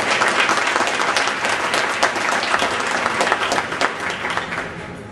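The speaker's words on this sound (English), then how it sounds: "So let's give them a big round of applause." An audience at a symphony orchestra's season announcement gives a big round of applause, dense and sustained clapping that stays loud throughout before easing slightly at the end.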